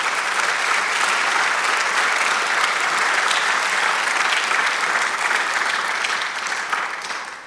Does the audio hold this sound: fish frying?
no